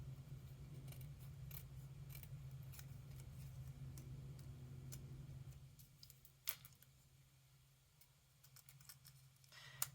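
Quiet snips of scissors cutting tightly around paper gift tags, a string of small crisp clicks over a low steady hum that drops away partway through, close and faint.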